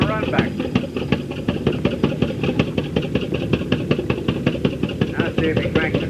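Antique tractor engine at an early-day tractor and engine show, running after being hand-cranked, with a steady rhythmic chugging beat of regular firing pulses, close and moderately loud, with people talking alongside.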